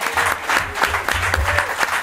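An audience claps and cheers at a wall-breaking ceremony for a capital development project, steady close applause with voices mixed in.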